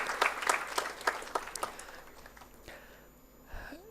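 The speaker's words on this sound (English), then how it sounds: "you deserve clapping" Audience at a Pune graduation ceremony clapping for graduating students: a lively burst of applause that thins out and fades to a quiet room.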